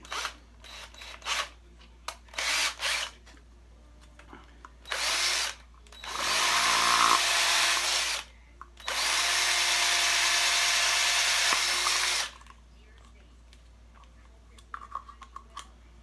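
A power drill whirs in short bursts, then runs in two longer sustained stretches, with quiet handling noises in between.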